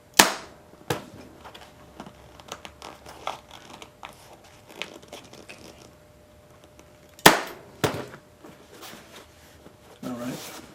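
A staple gun fires sharp, loud snaps, a few spaced seconds apart, while fabric is stapled onto a 1950s baby stool during reupholstery, with softer handling rustles and clicks filling the gaps.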